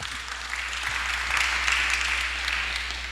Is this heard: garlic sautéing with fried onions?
no